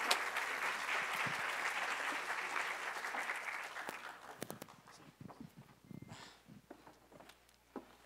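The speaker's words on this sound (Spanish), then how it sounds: "Un fuerte aplauso, gracias." Audience applause fills a school presentation hall, a dense sustained clapping that gradually thins out and fades into scattered claps and room noise.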